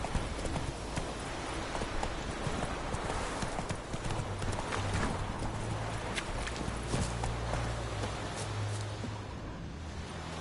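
The horse Roach gallops in The Witcher 3, hooves clip-clopping in a fast, steady rhythm over loud outdoor game ambience.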